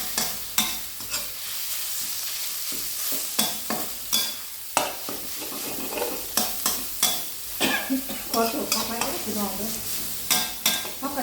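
Water spinach stir-fried with minced pork and shrimp paste in a hot pan, steady loud sizzling with repeated scraping and clanking of a spatula tossing the greens, close and continuous.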